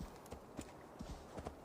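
Horse hooves clip-clop in an uneven rhythm as a horse climbs a mountain in the video game Assassin's Creed Valhalla, soft and faint, several light thuds over a quiet background.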